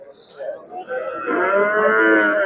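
A cow at a livestock market in Pakhtakor district, a pregnant milk cow giving eight litres, lets out a loud, drawn-out moo that swells and holds steady, preceded by quieter bovine sounds and market murmur.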